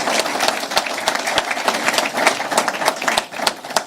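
An audience at a Massachusetts state program announcement gives Mayor Sullivan a round of applause, steady close-up clapping with distinct individual claps across a few seconds.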